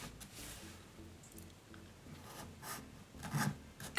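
A pen moves across paper while an artist draws a clown's ruffled cuff, giving a close, soft, raspy scratching of short strokes with a few sharper scrapes near the end.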